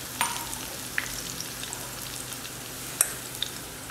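Garlic sautéing in oil in a pan, a soft continuous sizzle close by with a few sharp clicks from a spatula, fairly quiet and steady, with no voices.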